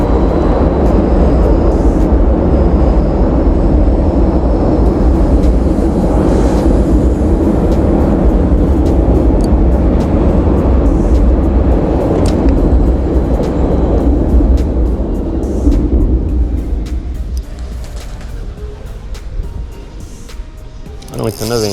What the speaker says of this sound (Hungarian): Jön a vonat, azt megvárom.